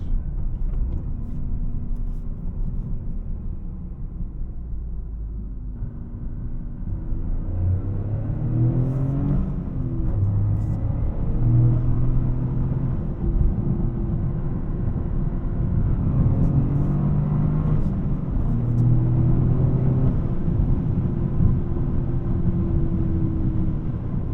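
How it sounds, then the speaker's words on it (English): A 2025 Toyota GR Corolla's exhaust drones low and throaty as it drives, rising and falling in pitch through gear changes and acceleration, steady and close throughout. "You can hear the exhaust."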